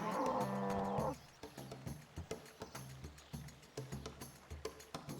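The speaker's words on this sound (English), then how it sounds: "We're killing a bunch of cows now." A cow in the RuneScape 3 video game lets out one loud moo at the start, followed by a rapid series of repeated mechanical clicks and combat hits in an even rhythm, with no talk.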